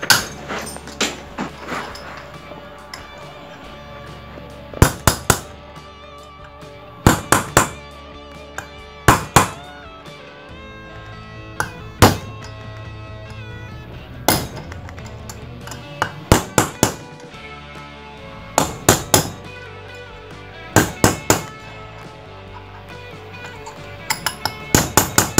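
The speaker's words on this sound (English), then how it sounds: "So I'm tapping each side, a couple of taps each." A hammer taps a trailer wheel bearing into its hub in short clustered bursts of two to four sharp metallic knocks, separated by quieter pauses, close and loud.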